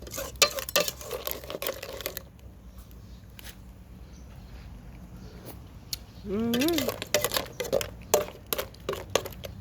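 Crab stir-fried in a pan for Thai crab larb: clattering, scraping strokes and bubbling up close, with a brief voice partway through.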